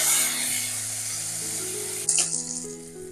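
Shallots sizzle in a pan for a Tamil pachapayaru rice recipe, garlic and ginger nearby, a constant frying hiss with a brief clatter of stirring near the end while a soft tone hums underneath.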